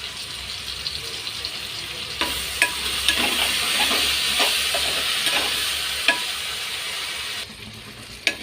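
Ginger garlic paste hits hot oil for vegetable rice, with a burst of sizzling and sharp clinks and scrapes of a spoon stirring in the pan, close and lively before fading back.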